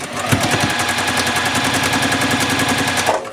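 A sewing machine stitches quilt pieces for a basket block, its needle hammering in a fast, even rapid-fire rhythm, loud and close, running continuously for a few seconds before stopping.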